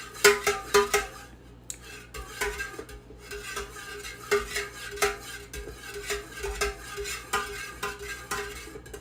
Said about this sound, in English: A little more stirring.